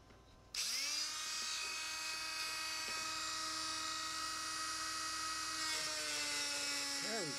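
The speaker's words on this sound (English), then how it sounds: "Let me try it the other way so the Dremel actually fits in here." A Dremel rotary tool spins up loudly with a steady high whine and slices through an acrylic rod using a paper cutting disc, holding a constant pitch close by before winding down at the end.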